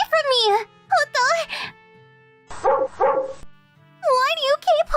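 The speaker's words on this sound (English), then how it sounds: "That dog's messing with that girl." A dog barks in short, loud bursts at close range, several yips spread across the moment, mixed with a girl's distressed cries and shouting in a dubbed cartoon scene.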